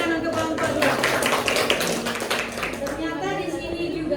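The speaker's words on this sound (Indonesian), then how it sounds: "Tepuk tangan untuk kelompok 2" A classroom group gives a burst of clapping for a student group, a dense patter of hands that fades out after a few seconds, with voices mixed in.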